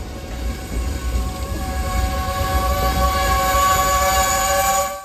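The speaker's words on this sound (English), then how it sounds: "This train is always a manifest, but sometimes this train has a lengthy load of petroleum cars" A long CSX freight train loaded with petroleum tank cars rolls past in Northern Massachusetts, its steady rumble and metallic wheel ring holding loud and continuous before easing off at the very end.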